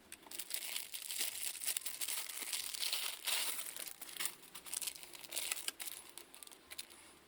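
A Warhammer Conquest magazine package is opened with close, continuous crinkling and crumpling of plastic and paper wrapping, plus occasional tearing sounds, fairly quiet and with no talk.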